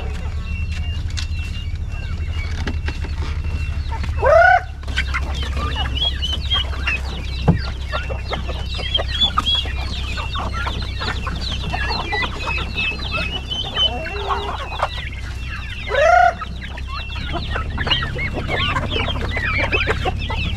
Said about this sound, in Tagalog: At pagkainin natin yung mga alaga nating manok.